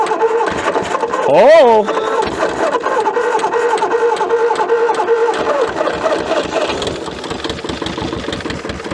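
An old CAT D8 bulldozer engine that has sat unused for decades cranks with a steady, rhythmic churning but does not catch, with a brief loud exclamation from a person early on.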